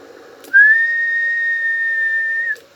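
A person whistles into a microphone to test a booster amplifier, producing a single steady, clear tone held for about two seconds, loud and close, with brief clicks before and after.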